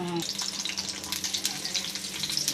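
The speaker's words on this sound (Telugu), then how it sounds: "ఆయిల్ హీట్ అయిపోతే పచ్చిమిరపకాయలు వేస్తారా?" Green chillies hit hot oil in a Telugu home kitchen, cooking for a black gram lentil chutney, giving a loud, steady crackling sizzle that runs continuously without pause.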